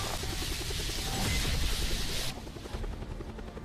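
Helicopter in the Black Ops Cold War Zombies Die Maschine map, a steady loud rotor roar with dense broadband noise throughout, easing slightly toward the end.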